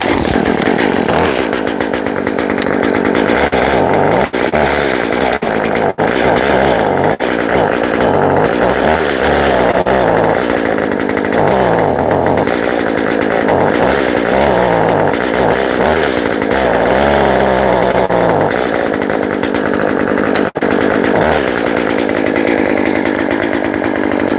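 A chainsaw engine runs continuously while warming up outdoors, loud and close, its buzzing pitch wavering and surging as the throttle rises and falls, with no talking.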